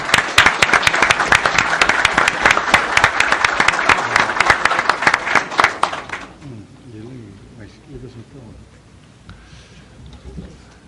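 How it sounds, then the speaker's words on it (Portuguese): Loud, dense applause from an audience at a Brazilian legal conference on agribusiness, welcoming a keynote speaker; it runs strongly for about six seconds, then breaks off, leaving quiet room noise and faint murmuring. "Nossos aplausos, senhoras e senhores."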